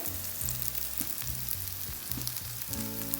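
Salmon fish fry sizzles in a pan, an Indian-style fish fry with a steady, crackly hiss of frying oil, close and fairly quiet, under a low tonal hum.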